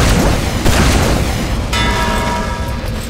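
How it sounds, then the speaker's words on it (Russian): Rocket launcher explosions tear apart a turret in Team Fortress 2, producing continuous loud booming blasts with a dense rumbling roar, a fresh burst hitting partway through, and no speech. "Уничтожьте турели ракетометом"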